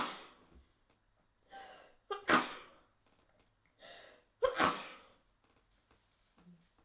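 A sharp sneeze bursts out near the midpoint and is followed by a second one, with breathy gasps before each and faint sounds around them.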